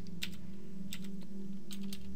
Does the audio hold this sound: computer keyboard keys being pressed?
yes